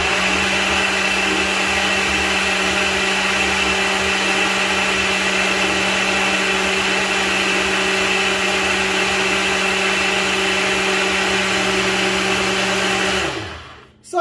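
A powerful blender whirs steadily and loudly, blending an orange chocolate ice cream mixture for a long uninterrupted stretch before cutting off abruptly at the end, with no voices.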